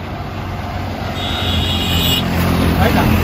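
A vehicle approaches on a road near the Kerala border around Kumily, a steady low rumble that swells gradually as it nears, with a brief high whine partway through.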